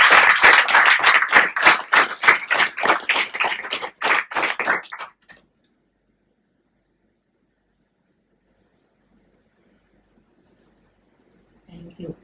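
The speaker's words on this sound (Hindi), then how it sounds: "तालियां।" An audience at a meditation centre gathering claps in brisk, fairly loud bursts for about five seconds, then stops abruptly into near silence until a voice starts at the very end.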